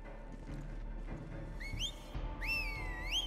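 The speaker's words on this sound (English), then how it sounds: "What are you whistling for, bro?" A character whistles in Far Cry 5, clear rising and falling whistled notes over a low rumbling ambience, with a short phrase followed by a longer, louder one.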